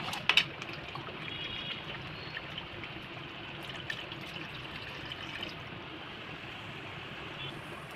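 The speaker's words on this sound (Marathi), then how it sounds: "आता यामध्ये थोडं पाणी घालून त्याच्यात रस्सा वाढून घ्यायचा" Water pours into a pan of surmai fish curry, making a steady, soft trickling and splashing that continues throughout. A sharp clink comes near the start.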